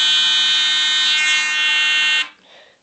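A homemade Arduino PIR motion alarm emits one loud, steady, high-pitched electronic tone for about two seconds, then cuts off abruptly, leaving faint background noise.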